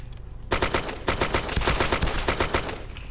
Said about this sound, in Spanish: Le están disparando a alguien.